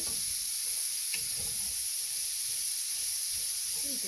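Onion and garlic butter sizzle steadily in a hot pan, a close, even hiss and crackle that continues without pause and without talk.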